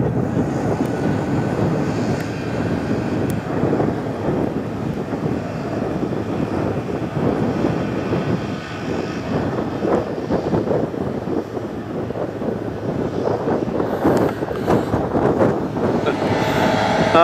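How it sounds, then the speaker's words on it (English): A Chinook CH-47 helicopter flying past outdoors, a continuous low rumbling rotor and engine roar mixed with wind buffeting on the microphone, fairly loud and sustained throughout. "It looks like a Chinook."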